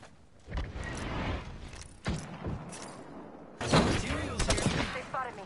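Gunfire in the Apex Legends video game, bursts of rapid shots and heavy thuds firing in two dense volleys with a brief pause between, loud and close, with a character voice calling out over them.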